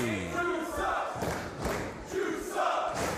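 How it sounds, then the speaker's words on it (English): A pro wrestling arena crowd chants for Orange Cassidy in a loud, rolling roar of many voices that swells and dips rhythmically, with a commentator's voice partly over it. "And this crowd calling for him to juice up."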